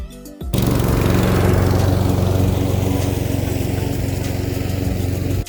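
A lawn mower engine starts and runs steadily with a loud, droning hum and a chugging rhythm throughout, close by and with no voices.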